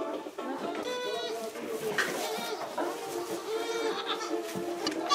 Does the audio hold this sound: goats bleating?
yes